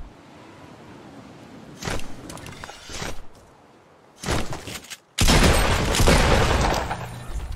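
Several bursts of rapid gunfire in Fortnite, loud and close, with short pauses between volleys and a final sustained burst.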